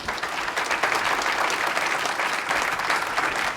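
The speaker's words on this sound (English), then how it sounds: "Please applause again to the speakers." An audience applauds panel speakers at a conference on digital-centered next-generation communities, producing steady moderate clapping from a large room that runs on evenly without pause.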